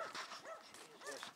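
A dog barks in a quick run of yips and bow-wows, several sharp barks close to the microphone with no talk over them.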